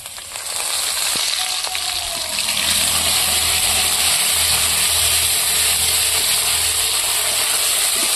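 Spice paste frying with already-fried potatoes in a pan, a loud, steady sizzling hiss that swells after the first couple of seconds and continues without talk.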